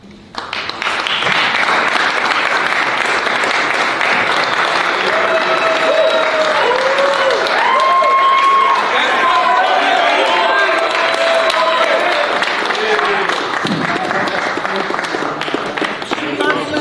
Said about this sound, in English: All right, clap, clap.